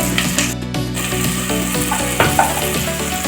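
Tempering ingredients for oggarane bajji sizzle and crackle in hot oil, a steady loud frying hiss with a few sharp spits and scraping stirs, heard close with no talking.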